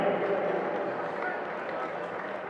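A crowd at a rugby final applauds the match officials, producing a steady, dense patter of many hands clapping at moderate distance without a break.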